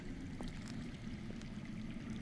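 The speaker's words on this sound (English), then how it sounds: "I hear water. From underground." Water runs underground in a Game of Thrones video game, a steady low rushing flow heard faintly and alone, with a few soft trickling splashes.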